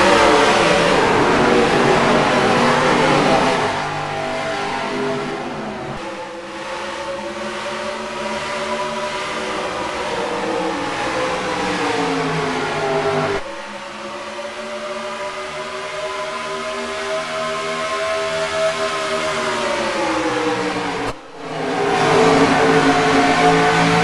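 Race cars accelerating together at the green flag start at Peoria in NASCAR Racing 2003, a loud sustained engine roar with rising pitch through the gears, dipping briefly as shifts occur.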